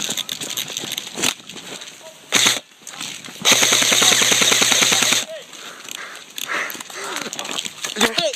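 Airsoft guns fire during an outdoor team deathmatch, with single pops and then a sustained rapid burst of automatic fire, while players shout and talk throughout.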